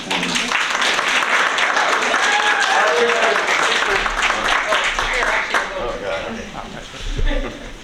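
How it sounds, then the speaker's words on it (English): A round of applause for the moms at a school board meeting, moderate clapping from the room that swells and then fades, with voices talking over it. "So how about a round of applause for the moms?"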